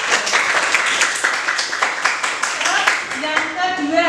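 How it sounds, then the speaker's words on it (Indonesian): Students in a ninth-grade classroom give a classmate a round of fast, scattered hand clapping that runs steadily for several seconds and then tapers off as voices rise over it. "Kita berikan aplaus dong."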